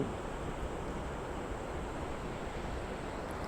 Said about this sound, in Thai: เสียงน้ำตกกระทบกับพื้น